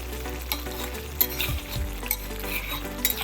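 Garlic and ginger paste being stirred into chicken karahi in a pan: a spoon scrapes and clinks against the metal over a low, steady sizzle of oil.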